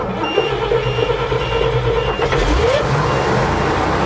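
A 427 dump truck engine turning over and catching, a loud steady rumble with a rising surge partway through, and a tonal whine riding above it.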